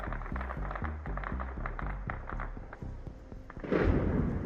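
Distant explosions during a drone attack on the Feodosia oil depot, a rapid series of thuds and pops followed by a louder rumbling blast near the end, heard from afar.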